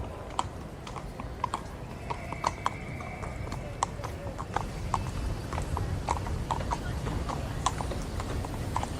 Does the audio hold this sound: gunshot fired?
no